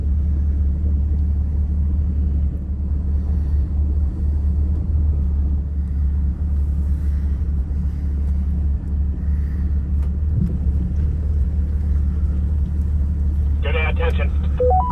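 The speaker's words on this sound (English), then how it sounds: "Now he's going to attempt to tow me out the front." A vehicle engine rumbles low and steady while towing a stuck vehicle out of mud from the front tow points, a continuous heavy drone throughout with a brief higher chirp near the end.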